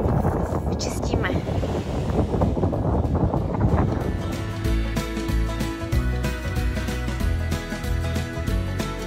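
Strong wind on a beach at Caleta de Fuste buffets the microphone with a constant rushing roar, while a person talks underneath it.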